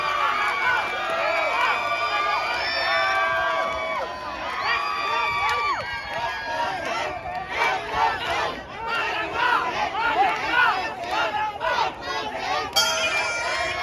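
A crowd at a Muay Thai fight yells and cheers loudly and continuously, with rising shouts and overlapping voices filling the whole stretch.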